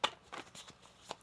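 A deck of tarot cards is shuffled by hand in a few quick, soft riffling bursts, close but quiet.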